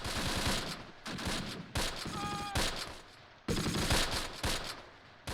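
Infantry firing in the WWII tactics game Close Combat, loud bursts of machine-gun and rifle fire chattering in repeated volleys with brief gaps and a faint tonal whine between.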